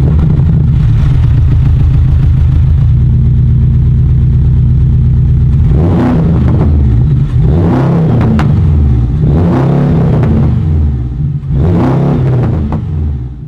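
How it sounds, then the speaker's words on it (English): Porsche 718 Boxster GTS with an upgraded exhaust idles loudly and close up with a deep burble, then gets four sharp revs that rise and fall back to idle. "when you start the car and when you rev it, it just sounds wicked"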